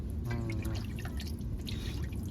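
Water splashes and drips as mackerel are rinsed, a soft, steady wet trickle with light splashes close by and no talking.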